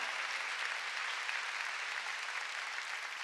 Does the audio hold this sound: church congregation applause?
yes